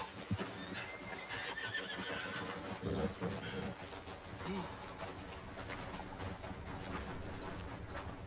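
A horse whinnies among hooves clip-clopping in the video game Red Dead Redemption 2, with other clatter and a voice speaking now and then.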